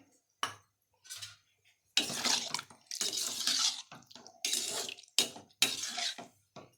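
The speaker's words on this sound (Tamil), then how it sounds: "இது கொஞ்சம் தண்ணி சேர்த்துக்கிறேன்" Water is poured into a cooking pot of kadappa, a South Indian lentil stew, in several short, splashing bursts, close up, with brief quiet gaps between them.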